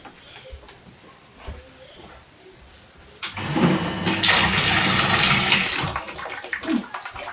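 Electric pump pushing water out through a hose at an allotment: quiet ambience at first, then a sudden steady rushing gush of water starts and keeps flowing loudly to the end.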